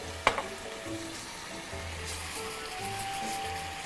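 A pan of food seasoned with salt and pepper sizzles and simmers softly and steadily at close range, with a sharp clink near the start and no talking.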